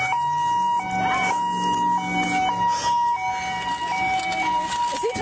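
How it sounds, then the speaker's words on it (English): A loud siren wails in alternating steady tones over heavy rumbling traffic noise, close and continuous throughout. "Is he turning off his siren?"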